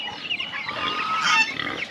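Pigs and chickens feeding on a farm, a continuous close, dense mix of grunts, squeals and clucking with no talk.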